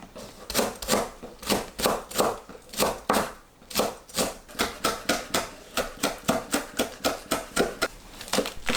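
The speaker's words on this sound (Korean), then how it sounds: "파를 작은 크기로 썰어주세요" A knife chops green onion into small pieces on a cutting board, a close, steady run of crisp knocks that quickens toward the end, with no voices.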